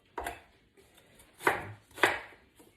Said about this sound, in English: So for the onions, nice rough chop.